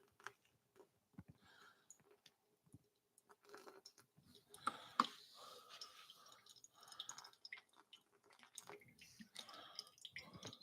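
Coffee drips through a Hario Suiren V60 pour-over dripper during pulsed pouring, giving faint, irregular trickles and tiny ticks close by in a quiet room.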